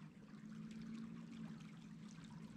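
Open water lapping and sloshing against an ice edge on a frozen northern Swedish waterway at minus 15, a steady soft trickling wash heard close by and fairly faint, with a low constant hum underneath.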